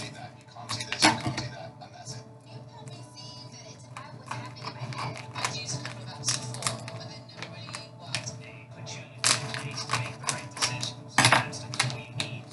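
Scissors snip and crunch through the foil wrappers of 2017-18 and 2018-19 Upper Deck hockey trading card fat packs, with irregular close clicks and crinkling rustles, no talking.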